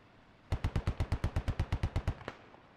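A DShK heavy machine gun fires in the military shooter game Squad, a steady burst of about fourteen heavy, evenly spaced thumping shots, moderately loud and alone.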